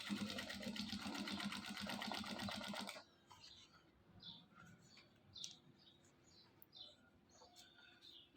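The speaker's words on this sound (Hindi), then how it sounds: "ये ऐसे सिलाई लगा लेनी है, सिंगल सिलाई चलेगी। ये किनारे पे सिलाई चलेगी।" An electric sewing machine runs a single line of stitching along a fabric edge with black thread on top, a steady rapid whirring rattle for about three seconds that then stops, leaving faint chirps and small clicks in a quiet room.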